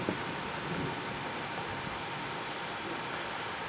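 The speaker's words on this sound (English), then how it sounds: "I'm just glad we're getting storms now" Thunder rolling through a thunderstorm in southeastern Pennsylvania, a steady low rumble mixed with rain-like hiss that holds at an even level for a few seconds, with no voices.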